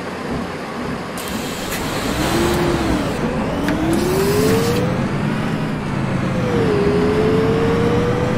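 Higer KLQ6770G city bus driving in OMSI 2, its engine rising and falling through gear changes, a whining pitch sweeping up repeatedly under a continuous loud drone.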